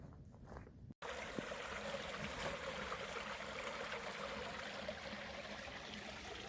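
Water trickles and burbles into a small pool beside the Appalachian Trail, a steady close rush that starts abruptly after a brief quieter moment and continues evenly.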